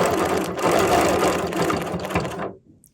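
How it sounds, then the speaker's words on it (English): A sewing machine ditch-stitches quilt blocks with a fast, even mechanical whir that runs steadily up close, then stops abruptly near the end. "And now we've got some more ditch stitching here."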